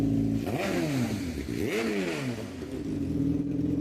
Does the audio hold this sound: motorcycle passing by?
yes